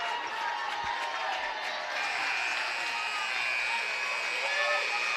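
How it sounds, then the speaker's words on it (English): A crowd cheers and shouts in a gym during a high school regional semifinal volleyball match, a continuous, fairly distant roar of voices that swells slightly near the end. "The crowd's really starting to get into it."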